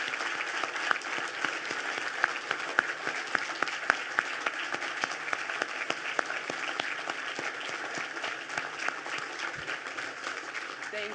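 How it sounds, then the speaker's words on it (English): Audience applause at the Muhammad Ali Humanitarian Awards 2025 ceremony, a dense, steady wash of many hands clapping that holds at an even loudness throughout, with a few sharper individual claps standing out. "Please clap for them."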